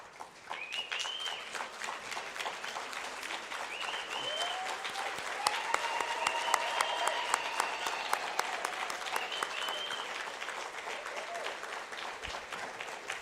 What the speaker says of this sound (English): I do want us to acknowledge our Minister of Transport by standing up and giving her a huge round of applause.